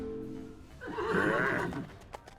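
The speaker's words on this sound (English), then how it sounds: "he makes a horse noise when he charges" A horse neighs once, a short whinny about a second long, as a charging unit attacks in the video game Empire of Sin, heard clearly over a quiet game background.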